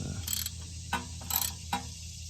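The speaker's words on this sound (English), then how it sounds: "I come back with my ratchet and tighten her up just a little" Hand ratchet tightening a screw on a Honda Element front ABS speed sensor: three or four distinct quick clicks spaced unevenly, close and fairly faint over a quiet background.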